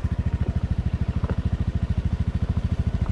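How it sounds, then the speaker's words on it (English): Nearby motorbike chugging along a dirt road on the hike down to Kelingking Beach on Nusa Penida, with a steady, fast, pulsing engine beat at low revs. "there's a motorbike coming now, let's see how he does it"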